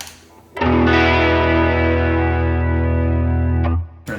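Electric guitar run through a Line 6 Helix chorus effect on its LFO preset: one sustained, distorted chord rings out with a wavering, shimmering modulation, then cuts off abruptly near the end.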